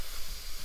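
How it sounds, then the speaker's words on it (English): Pressurised gas hissing out of a vessel of still-fermenting Mountain Culture Brewing Co. Dolly NEIPA beer, a steady close broadband hiss with a slight wavering, alone without talk. "So I will release the gas and you'll see"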